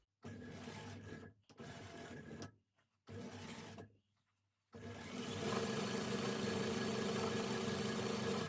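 Cowboy CB6900 cylinder arm industrial sewing machine stitching a zipper: three short bursts of rapid mechanical stitching with pauses between them, then a longer, steady, louder run of stitching.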